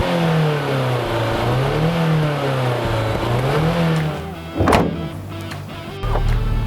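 Mercedes 190E Evo 2 DTM race car engine revving hard, a loud rising and falling mid-pitched drone with a sharp burst near the end.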